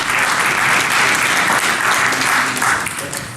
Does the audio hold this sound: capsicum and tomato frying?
no